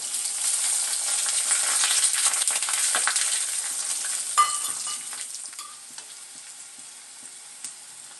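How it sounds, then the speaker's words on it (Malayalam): Ginger, garlic and curry leaves frying in hot oil, a close crackling sizzle with stirring scrapes that fades and thins toward the end, leaving sparse pops. "ഇഞ്ചി വെളുത്തുള്ളി നന്നായിട്ടൊന്ന് മൂട്ടിട്ടുണ്ട്"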